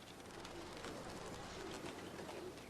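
Pigeons coo softly at a rooftop dovecote in Kowloon Walled City, low repeated calls under a dense, steady hiss of background noise.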